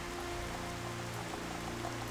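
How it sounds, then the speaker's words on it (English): Steady, realistic rain falls in Xenoblade Chronicles: Definitive Edition, a soft continuous patter over a faint low drone with no pauses. "JRPG surprise by realistic rain weather."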